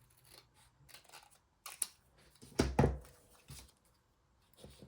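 Scissors cutting across scrapbook paper: a few soft snips and a louder, sharper cut near the middle, close and quiet with no talking.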